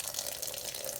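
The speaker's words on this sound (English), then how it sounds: "Run your water" Tap water runs steadily into a sink while makeup brushes are rinsed, a continuous close splashing hiss with no talk over it.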